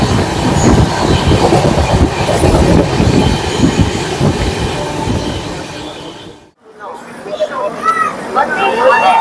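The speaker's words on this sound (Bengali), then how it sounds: "আর আমাদের নদিয়ানা এক্সপ্রেস এখন কিন্তু বেশ ভালোই যাচ্ছে" A loud, steady rumble and rattle of an express train (12357) moving along the tracks, heard from inside, continuous and close, with a brief lull partway through.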